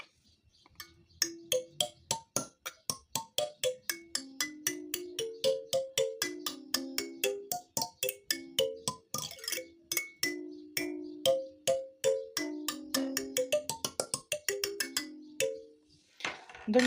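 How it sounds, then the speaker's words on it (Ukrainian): Fingers pluck a kalimba, the African hand piano, in a steady run of bright metallic notes forming a simple melody, close and clear without talk. "Калімба африканський ручний музичний інструмент, типу ручне піаніно."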